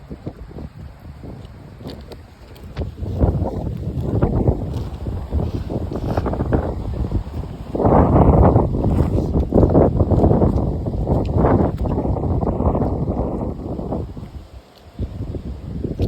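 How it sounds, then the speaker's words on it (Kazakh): A moped engine cranks and sputters over and over without catching, water having got into it, loud and close, with gusty wind noise on the microphone in cold rainy weather. "Оталайын дейді да, оталмай жатыр."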